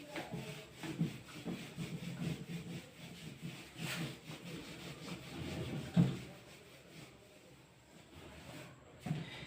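A board is rubbed clean of written equations in a maths classroom, a continuous close scrubbing and swishing with occasional knocks, moderate in level and without speech.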